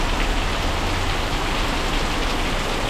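Steady rain hisses continuously and fairly loudly over a low rumble, a broad even wash with no voices.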